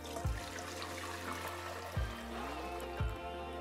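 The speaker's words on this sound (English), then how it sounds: "you can go ahead and pour all of your ice cream back into the pot" Pistachio ice cream base is poured from a container back into a cooking pot, giving a soft, continuous liquid trickle with three dull knocks of the vessel. The sound is quiet and close, with no talking.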